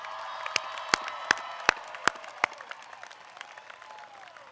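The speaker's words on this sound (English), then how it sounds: "Give yourselves a big round of applause" Crowd applause at the May 2019 James Madison University College of Arts and Letters commencement ceremony: a broad wash of clapping with several sharp, loud individual claps standing out at a steady beat, slowly fading toward the end.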